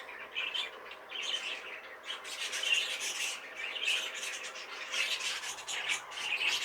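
Two pet birds being paired for breeding give repeated squawks and chirps, with a steady rustling rub running underneath, moderately close and with no talking.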